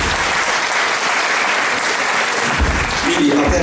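Audience applause in a hall at a guitar concert event, a dense, continuous clapping that stays steady for several seconds, with a voice briefly rising near the end.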